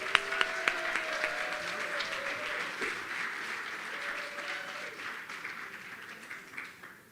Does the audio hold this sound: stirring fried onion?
no